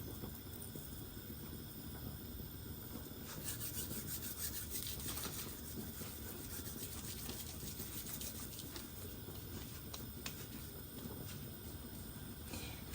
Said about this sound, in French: On va mettre le thym. Je vais frotter, donc j'en prends un peu, je frotte un peu partout pour l'effilocher.